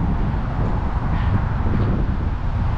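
Strong wind blowing outdoors beside a flooded creek while fishing for trout, a steady, loud rushing roar buffeting the microphone throughout, with no talking.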